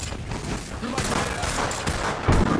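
Dense, continuous video-game gunfire during a firefight, loud rapid shots overlapping throughout with a heavier burst near the end.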